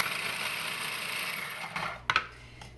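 An electric machine chops fresh ginger root in a kitchen: a steady whirring drone that cuts off after about two seconds, followed by a few sharp mechanical clicks and clatters.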